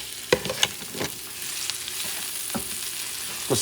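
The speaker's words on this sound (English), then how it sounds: "But I do going to cook for a little bit the shrimp." Shrimp cooking in a hot pan for shrimp with basmati rice, a steady close sizzle broken by a few sharp clicks and scrapes of a utensil, with no voices.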